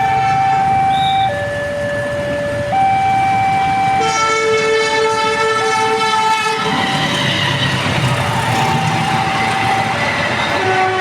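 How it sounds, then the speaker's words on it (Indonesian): The Kertanegara passenger train passes level crossing JPL 90 near Baron station, Nganjuk, East Java, heading toward Pasar Senen. The crossing warning signal rings in steady tones while the train horn blares and the cars rumble past loud and close. "kereta api Kertanegara teman-teman melintas di JPL 90 arah Pasar Senen."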